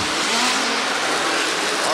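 Midget race cars roaring past on a short oval track, a dense continuous engine blare with a commentator talking over it.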